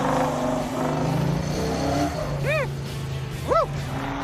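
A 1966 Chevrolet muscle car races around a track with a loud, continuous engine roar and tire noise, plus two short rising-and-falling squeals near the end; a voice speaks faintly underneath.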